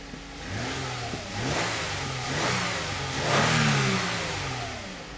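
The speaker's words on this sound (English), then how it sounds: "Let's start the engine one more time." A Toyota Avalon engine, repaired after a misfire with a flashing check engine light, running and revving in a workshop, rising and falling through several throttle swells, close and loud with no talk.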